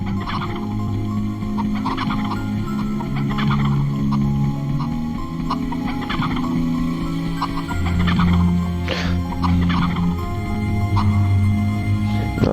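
Clucking and squawking fowl in the MediEvil video game, a busy stream of bird calls repeating throughout over a steady droning game background, fairly loud with no speech.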